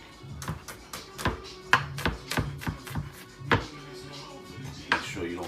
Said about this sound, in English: I'm gonna chop up some of this garlic right here.